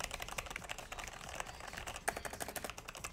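Steady, fairly loud typing on a Logitech Carbon keyboard, its keys producing a dense run of soft, muted clicks rather than sharp clacks, with no voices over it.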